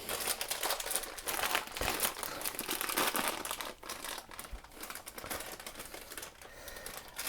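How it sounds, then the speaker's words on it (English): A plastic bag holding cookie cake ingredients is torn open by hand without scissors, giving a stretch of close crinkling and ripping noises with brief rustling bursts, fairly quiet and without speech. "I can, just by tearing the bag like a savage beast."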